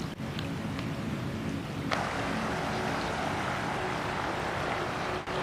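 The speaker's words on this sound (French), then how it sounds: "un bruit très fort d'eau" A loud, continuous broadband roar of rushing floodwater filling a ravine during a flood in Córdoba fills the whole stretch, steady and close, with no voices.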